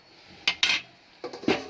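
A metal lid clatters and scrapes as it is lifted off a pot of mustard pointed gourd curry, in two brief pairs of close clinks, with no voices.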